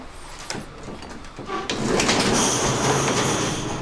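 A door slides and bumps shut partway through, after which a louder steady mechanical hum and rattle fills the space.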